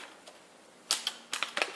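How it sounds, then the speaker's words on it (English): A knife cuts through the plastic packaging of a Lego Saturn V light kit, making a few sharp, close crackles and snaps in short bursts over quiet room tone. "But I'm just using my knife for now."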